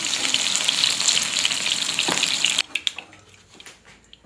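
Beef and onion frying in a pan for a stir fry, a loud continuous sizzle that abruptly drops to quieter crackles and a few stirring knocks near the end.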